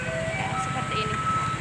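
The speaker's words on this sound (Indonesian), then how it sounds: "Ini mobil recyclingnya," A recycling truck in Taiwan passes in the street playing its tinny melodic jingle over a low vehicle rumble, moderately loud, with a person talking throughout.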